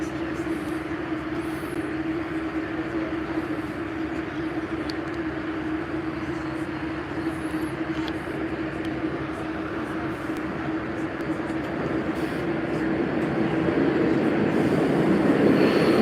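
A Red Line subway train runs with a steady, continuous rumble and a sustained low hum, nearby and fairly loud, swelling slightly louder toward the end with no talk over it.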